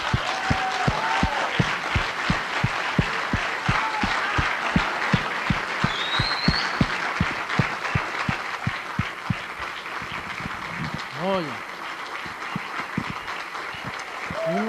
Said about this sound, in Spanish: Oye, vamos a darle un aplauso al jefe.